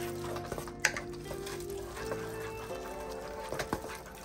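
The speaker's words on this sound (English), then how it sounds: "Stir it up a little." Risotto being stirred after grated Parmesan cheese goes in, with soft scraping and gentle sizzling in the pot, a few sharp clinks of a spoon against the pan over a quiet steady hum.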